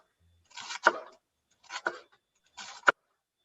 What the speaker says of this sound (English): just a matter of cutting it up in very thin slices